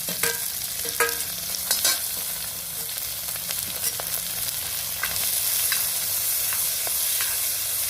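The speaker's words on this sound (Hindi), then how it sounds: "इसमें हम देखिए ये डाल देंगे बारीक कटा हुआ प्याज।" Finely chopped onions sizzling and frying in hot ghee in a wok, with a steady crackling hiss and occasional scraping stirs and clinks of a utensil.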